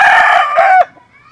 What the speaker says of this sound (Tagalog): Alas 2 pa lang ng madaling araw. Tumitilaok na kayo.